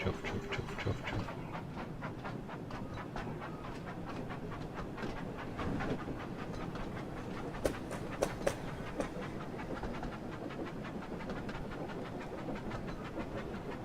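A G-gauge garden model train pulling wagons runs steadily outdoors, with a continuous rolling rumble and rhythmic clickety-clack of wheels over rail joints, plus a few sharper clicks midway.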